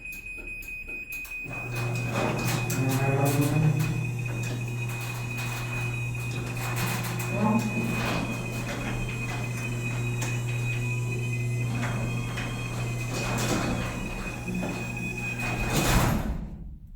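A Chamberlain B970C garage door opener sounds a steady warning beep, then the door rolls shut with a long loud mechanical rumble and rattle and a final clunk at the end.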